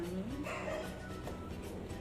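A dog barks and whimpers a few times somewhere in the room, fairly faint, with low background hum and murmuring.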